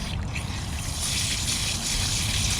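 Tap water runs steadily while a small tie-dyed onesie is rinsed by hand, a close continuous splashing trickle with no talk.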